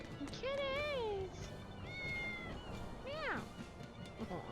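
Cats meow in the video game Tales of Berseria, with several drawn-out, rising and falling meows heard over game background sound.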